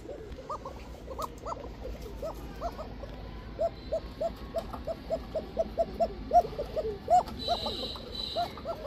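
An Arabian cocka pigeon gives a thin, rapid series of repeated calls, close and moderately loud, building in strength toward the end.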